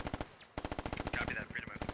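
Rapid bursts of machine gun cover fire in the military shooter game Squad, a steady fast rhythm of loud close shots running through the whole stretch with no talk.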